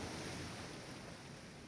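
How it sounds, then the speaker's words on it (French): Ocean waves surging and washing onto a shore in a steady, broad rush of surf, with some wind noise in the background; no voices. "Est-ce que vous êtes capable d'entendre le bruit des vagues"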